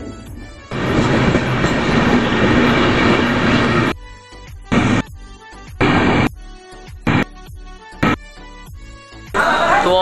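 The Rajendra Nagar Patna Saharsa Intercity Express pulls out of Fatuha Junction: a steady rumble gives way to rhythmic clacking and thumps of wheels over rail joints, heard from inside a general coach.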